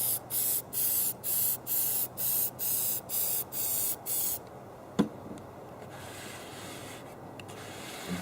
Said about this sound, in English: Do not spray this inside your house.